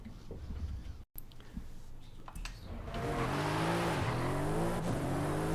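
In Forza Horizon 5, a car's engine surges at high speed after a quieter, scrappier start, the rising revs climbing through several gear shifts, loud and sustained without any talk.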